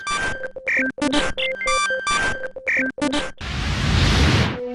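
Bright electronic synth tones from the virtual synthesizer app I Am Sent in short chords and bleeps, switching rapidly, then a burst of loud noisy static that sweeps and fades out.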